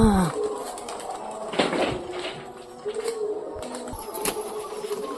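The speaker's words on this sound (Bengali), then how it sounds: "তো দেখতে পাচ্ছেন সব কবুতর মোটামুটি উঠতেছে" Flock of Giribaz pigeons taking off and flying, with bursts of wing flutter and soft cooing over light background noise, no speech.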